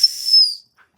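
A referee's whistle gives one shrill, steady blast lasting about half a second, loud and close, then stops, leaving near silence.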